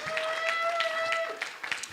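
A church congregation claps at an evening service, a steady crowd of hands with a sustained tone ringing underneath, fairly loud and continuous.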